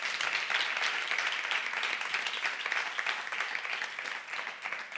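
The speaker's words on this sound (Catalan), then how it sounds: "Un aplaudiment per la banda." Applause for the band at a live Catalan comedy show, a broad sustained wash of clapping from the audience lasting throughout, fairly distant and moderately loud, fading slightly near the end.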